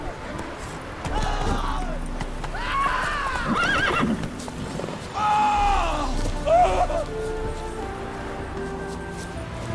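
In The Witcher 3, a horse gallops with rapid clip-clop hoofbeats and lets out several loud neighs and whinnies, with game sound effects layered around them.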